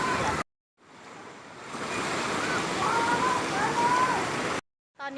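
Strongly rushing water at Huai Chan waterfall in Sisaket pours as a steady broadband roar, cut off briefly at the start and end, with faint higher tones drifting over it.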